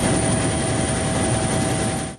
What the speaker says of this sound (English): a 45-minute trip on helicopter to Southfly brought us to Morehead Station